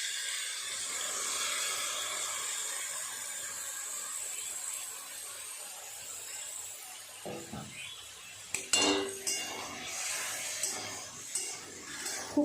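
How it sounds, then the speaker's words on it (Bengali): Drumstick vegetables stir-fried with mustard, chili and turmeric paste, with a quiet background hiss broken by metal utensil clinks and scrapes against the pan, growing busier toward the end. "খুব ভালো করে একটু সমস্ত সবজির সাথে মশলাটাকে এইভাবে কষিয়ে নেব।"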